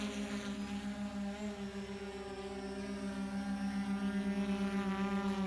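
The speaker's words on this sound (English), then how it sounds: "flies like any other drone." An Autel Dragonfish drone in flight gives off a steady, faint tonal drone and hum that holds evenly throughout with slight pulsing, heard alone at a distance.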